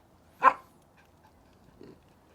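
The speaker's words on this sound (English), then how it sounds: "See, he's starting to bark and look at me." A single sharp, close dog bark during reactivity training, followed by a faint, softer second sound in an otherwise quiet space.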